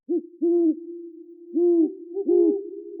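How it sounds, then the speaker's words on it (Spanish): An owl hoots several times in a soft, low, repeated pattern, short calls separated by brief pauses, clear and close against a quiet background. "Cuando un búho aparece sobre sus cabezas"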